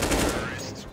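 Rapid automatic gunfire from CS:GO rattles in a loud, dense burst lasting about a second, shots tightly packed and fading slightly at the end.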